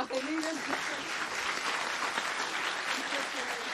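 Applause for the winner of a food systems innovation challenge at an award ceremony, a steady crowd clapping throughout with a voice speaking over it.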